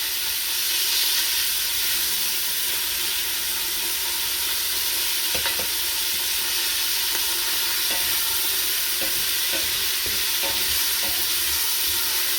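Beef or lamb mince frying in a pan as it is crushed, with a steady loud sizzle and hiss throughout and scattered short scraping knocks from the utensil breaking up the meat.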